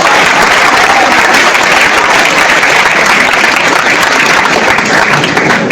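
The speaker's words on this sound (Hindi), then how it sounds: "आपकी इतनी कमजोर तालियों के लिए मैं आपका धन्यवाद करता हूं।" Sustained applause from a Hindi lecture audience, dense and steady throughout at close range, rather thin and without cheering.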